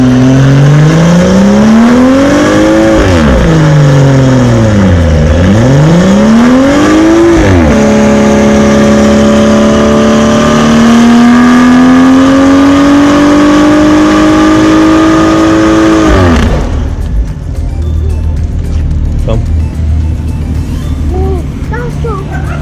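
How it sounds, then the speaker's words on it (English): A BMW 340i F30 held in a burnout, the engine loud and close with revs rising, dipping and climbing again before cutting off sharply, leaving quieter background noise. "You'll see the Burnout right now."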